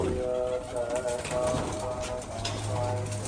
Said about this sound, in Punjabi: ਨਵੇਂ ਕਬੂਤਰ ਇਹਨਾਂ ਨੂੰ ਦੇਖਦੇ ਆ